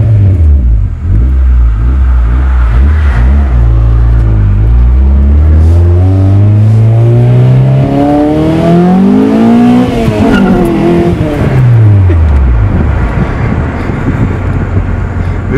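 A CG Honda Accord with a swapped F20B engine, heard from inside during a ride-along, loudly accelerating through rising revs with a drop at a gear change and climbing again, while passengers talk.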